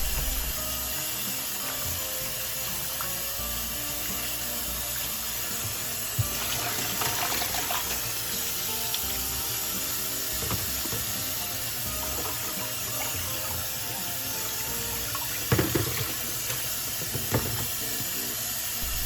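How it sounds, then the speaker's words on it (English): Steady running water pours from a tap, with occasional clinks and handling noises of chicken gizzards being rinsed in a sink. "Wash them thoroughly until the water is clean and no more blood."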